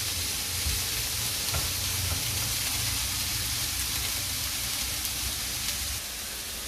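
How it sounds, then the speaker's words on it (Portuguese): Seasonings sauté in a pan for crab coxinha filling, a steady loud sizzle and crackle of frying with faint stirring, continuous and close with no talking. "Deixa eu dar uma rápida refogada aqui"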